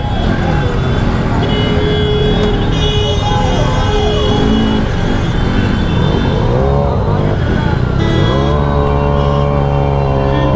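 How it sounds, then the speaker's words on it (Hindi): Busy traffic fills a crowded Lucknow crossroads with loud, close engine noise, passing vehicles and bursts of car horns, the longest horn blasts coming near the end. "जहाँ भी जाओ ट्रैफिक ही ट्रैफिक"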